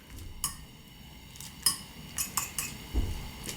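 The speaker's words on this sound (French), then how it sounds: "je démêle ça comme il faut dans l'eau, donc je mélange" Rice noodles stirred in a bowl of water, heard as a few sparse, light clinks and taps of utensil against the bowl over a quiet background, with no voices.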